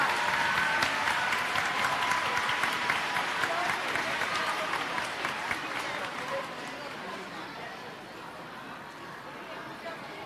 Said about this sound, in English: Another round of applause for our youngest participants